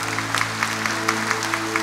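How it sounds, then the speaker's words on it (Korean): A church congregation gives applause in worship, a brief burst of uneven clapping over a sustained organ or keyboard tone that holds underneath. "오늘도 우리와 함께 하시는 하나님께 영광의 박수 올려드리겠습니다"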